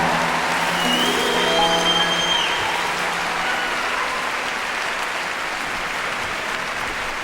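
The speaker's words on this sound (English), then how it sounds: "Give yourself a round of applause there" A large audience applauds at a concert at the Royal Albert Hall in 2001. Dense, steady clapping and crowd noise fill the hall throughout, with faint music tones early on.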